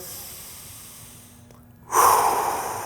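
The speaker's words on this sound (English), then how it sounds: "Big breath in." A big, sharp breath drawn in, starting suddenly after a near-silent pause and then trailing off as a loud airy rush close to the microphone.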